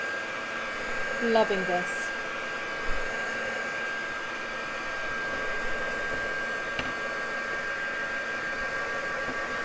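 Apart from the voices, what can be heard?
heat tool drying paint on artwork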